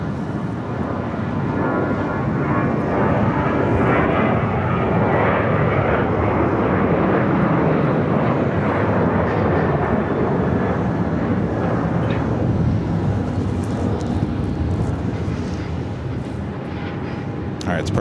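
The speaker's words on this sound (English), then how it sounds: "that A330 with Delta. I saw just land on runway 8. Crossing over the bridge, now heading to Terminal 3" A Delta Airbus A330 airliner's engines roar steadily after landing on runway 8 at Phoenix airport, a loud continuous rumble running throughout.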